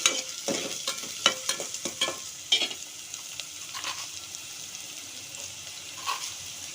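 Onions with salt sautéing in a pan for a tamarind fish curry, heard as a close, moderate sizzle broken by repeated spatula scrapes and stirring clinks that thin out toward the end, with no talk.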